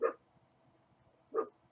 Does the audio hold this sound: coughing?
no